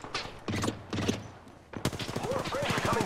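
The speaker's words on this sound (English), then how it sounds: "The enemies are shooting at me." Bursts of rapid automatic gunfire in an online shooter video game, several loud close volleys separated by short gaps, then heavier continuous fire with a voice speaking faintly underneath.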